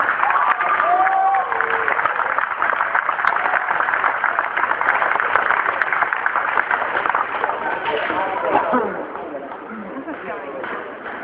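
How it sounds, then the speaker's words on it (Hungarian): Sustained applause and cheering from the audience at a boxing gala in Szentes, honouring Mesterszei Rajmund, a dense steady wash of clapping that runs the whole stretch and eases slightly near the end. "egy nagyon nagy taps illeti Mesterszei Rajmundot is"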